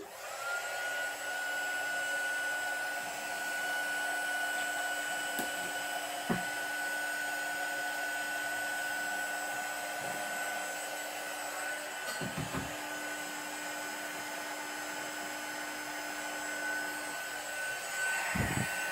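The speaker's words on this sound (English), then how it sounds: "Now I'm just going to put my heat gun on." Heat gun running steadily while crafting a Christmas card, a continuous close airy blowing roar with a faint whine that holds at an even level throughout.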